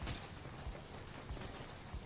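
Gunfire during a raid in The Division 2, heard as dense, steady background noise with a few faint low thumps at intervals. The shots are muffled and distant, and nothing else stands out.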